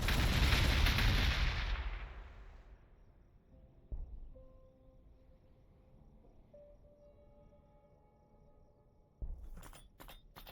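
Artillery in the Warhammer 40,000: Gladius strategy game fires on a city, a loud booming blast that fades into a long rumble, with a faint thud and a tonal hum in the middle and a second sharp impact near the end.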